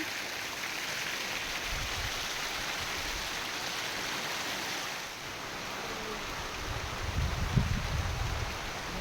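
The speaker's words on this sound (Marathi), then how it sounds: "आणि पाऊस पण येतोय." Monsoon rain pours in Konkan as a steady, dense wash of hiss that holds evenly throughout, with a slight swell of low rumble near the end and no voices.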